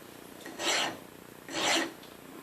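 A file rasping across a grinding gouge on a cast iron quick change tool post, two slow, close strokes, each a broad gritty scrape, with quiet pauses between and around them.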